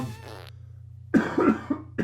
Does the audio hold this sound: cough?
yes